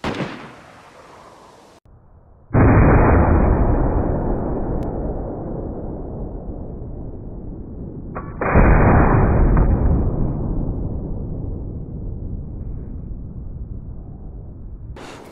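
Two loud, heavy rifle shots in DayZ, each a booming crack with a long rolling echo that slowly decays over several seconds, spaced about six seconds apart, with no talk over them.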